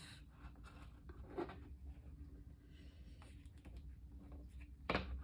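Tarot cards are shuffled by hand close up, a soft, uneven run of riffling clicks and patters, fairly quiet, with a sharper flurry near the end.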